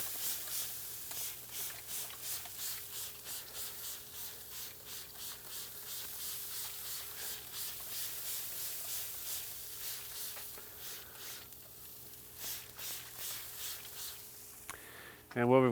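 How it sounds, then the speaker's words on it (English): A spray bottle of half water, half apple cider vinegar is pumped over Wagyu short ribs smoking on a Komodo Kamado grill, a series of soft, rhythmic hissing spritzes, fairly quiet against faint background hum. "Gonna give this a spray."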